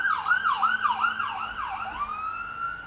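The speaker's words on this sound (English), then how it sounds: "Ambulance this time." An ambulance siren wails in rapid rising-and-falling yelps, then settles into a steadier tone, fairly close and loud, with no talking.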